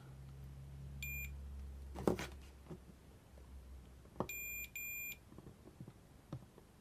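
Short, faint electronic multimeter continuity beeps sound a few times as the probes touch, one brief and then a pair of longer tones, amid quiet clicks and handling noise.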